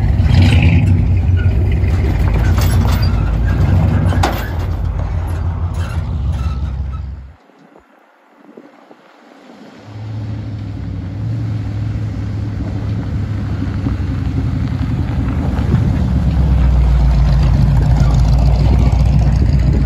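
Trucks with glass pack exhausts rolling downhill, a loud close rumbling drone that drops away for a couple of seconds, then builds back to a steady growl.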